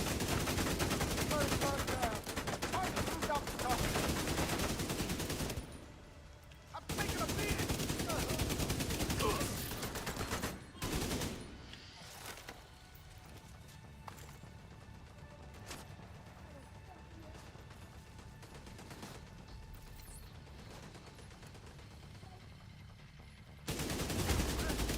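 Light machine gun fire in a video game, loud and sustained in long rattling bursts for about ten seconds with a brief break, then quieter scattered shots and game noise while players talk.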